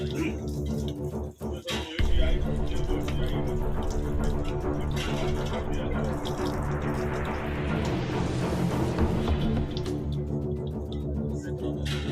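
Water gushes steadily from a hand pump as an official works the handle, a continuous splashing flow that swells over several seconds, with faint voices in the background.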